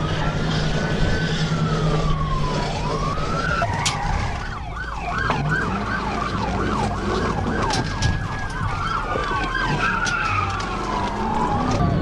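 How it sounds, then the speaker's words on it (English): A car skids and spins into a concrete barrier during a police chase, with loud tire squeals warbling repeatedly over a wailing siren, engine roar and road noise, ending in sharp impacts. "the trooper moved in and performed a flawless TVI, spinning the car into the concrete barrier"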